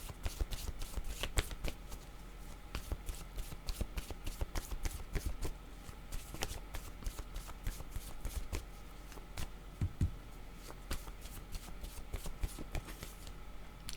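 A deck of cards is shuffled for a card reading, producing a continuous run of soft, rapid riffling and flicking taps, close and quiet, with no talking.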